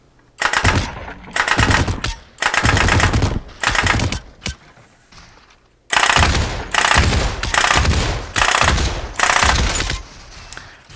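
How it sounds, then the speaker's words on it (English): Fully automatic rifle in a Meta Quest VR game firing at a slower rate, loud close bursts of rapid shots in about eight separate strings with short pauses between, no talking. "So here's another fully automatic rifle, but you can see that the fire rate is a lot lower"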